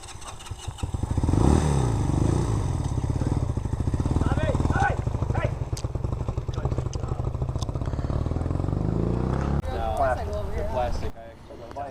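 A Honda Rebel 250 motorcycle with a sticking throttle runs close by with a steady, lumpy idle that swells briefly when revved, while voices talk over the engine throughout.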